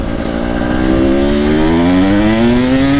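Supermoto motorcycle on a race track, its single engine note rising steadily in pitch as it accelerates, loud and close throughout with no talking.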